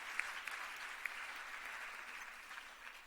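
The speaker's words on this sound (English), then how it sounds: "let's give another huge round of applause for all our finalists" A conference audience applauds startup pitch finalists at a tech event in Beirut, a dense, even wash of many hands clapping that holds steady throughout, heard from a distance and fairly faint.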